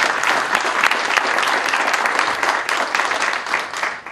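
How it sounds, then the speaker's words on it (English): An audience at a Safeway groundbreaking ceremony at University Town Center applauds former delegate Justin Ross, a loud, dense, continuous wash of clapping that fades slightly toward the end. "If we could give him a round of applause"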